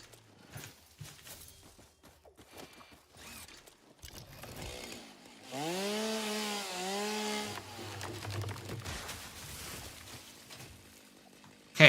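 A chainsaw buzzes in the factory-building game Satisfactory, rising and falling in two revving sweeps over a hissy background, moderately loud amid game ambience.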